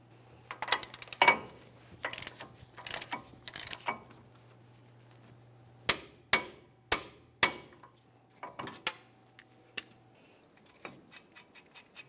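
Sharp metallic clanks and ticks ring out near a Dodge Dakota front axle, in scattered bursts with brief pauses, then a quick run of evenly spaced strikes and a few fainter taps.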